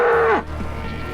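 A single cow moos loudly and close, a short low call that drops off, followed by quiet outdoor background.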